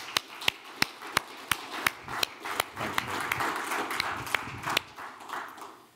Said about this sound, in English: a round of applause for Nic, I think.